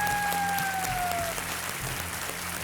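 Studio audience applause greets new contestants on the KBC game show set, a steady, fairly soft wash of clapping with faint tonal studio sounds drifting through it.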